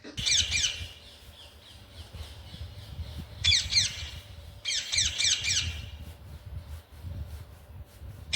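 A parrot gives sharp, raspy squawks in three bursts of rapid repeated calls, close and loud, separated by quieter gaps with low background rumble.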